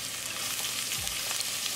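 Garlic and ginger sizzle in hot oil, a steady bright frying hiss with a brief stir partway through.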